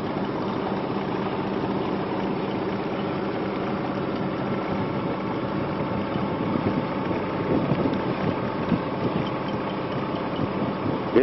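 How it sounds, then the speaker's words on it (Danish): A small boat's motor runs steadily while heading out of a Danish fjord toward Sakskøbing, a constant low drone with wind buffeting the microphone and no talking. "Her sidder Skipper og styrer for motor"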